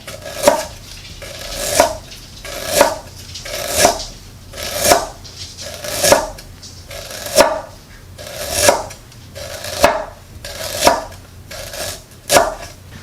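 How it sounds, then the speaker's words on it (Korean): A knife cuts thin slices through peeled ginger on a board, about a dozen crisp, evenly spaced chops roughly a second apart, each with a short knock, close and clear with no voices. "생강을 얇게 잘라줄 거예요."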